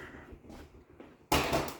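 Plastic sensor bracket on a Genie ISL950/A garage door opener bouncing and knocking against the ceiling, with faint scattered taps early on and then one louder clattering hit near the end, close by.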